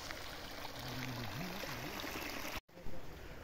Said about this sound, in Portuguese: A água correndo aí, ó. É muita água.